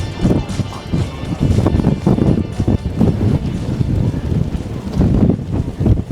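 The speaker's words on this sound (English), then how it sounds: "Oh, it's windy." Gusty wind buffets the microphone in loud, uneven rumbles, roaring continuously with surges and lulls.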